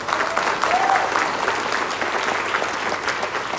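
Audience applause at a Malay-language motivational talk, a dense burst of many hands clapping together that holds at an even level for a few seconds before easing slightly.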